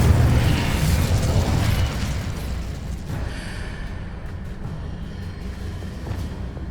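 Incendio fire spell cast in Hogwarts Legacy, a loud whooshing burst of flame that roars at first and then fades into a lingering crackling rumble.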